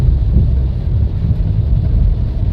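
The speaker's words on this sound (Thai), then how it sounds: "ฝนตกอีกแล้ววันนี้นะ" Rain falls on a car driving along Road 13 in Vientiane, Laos, by the national university. A steady, loud wash of rain mixes with deep road and engine rumble from inside the car, with no voices.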